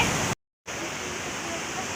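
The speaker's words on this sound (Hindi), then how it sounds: "आप देख सकते हैं कि पीछे कितना सारा पानी है" Steady, heavy rush of a large body of water pouring at a waterfall by the Chamunda temple, a continuous broadband roar heard close by, cut by a brief silent dropout before resuming just as loud.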